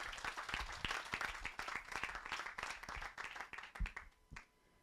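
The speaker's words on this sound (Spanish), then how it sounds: "Denle un aplauso a Cristo" A church congregation breaks into applause after a call to clap for Christ, a dense patter of many hands with sharp individual claps standing out, then thinning and dying away near the end.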